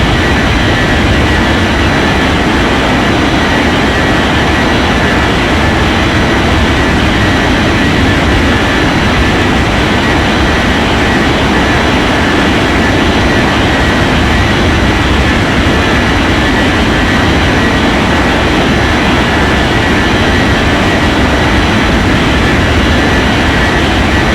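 Airliner landing in an air traffic control video game at an airport, a loud, continuous jet engine roar that holds steady the whole time without pause.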